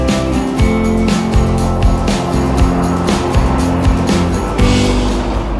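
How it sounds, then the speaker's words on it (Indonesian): A truck passes along a forest road on the way from Kintamani to Denpasar, a loud, steady engine rumble with low harmonic tones that holds close throughout, with no talk. "Sampai getar-getar gitu rasanya tanahnya loh. Ada truk lewat."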